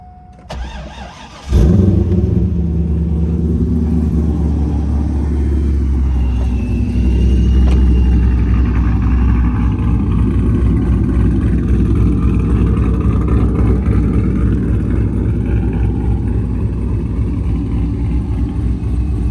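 A straight-piped, boosted LS V8 engine in a C5 Corvette running on E85 cranks and fires up loudly, then settles into a deep, steady, rumbling idle with a few revs, close by.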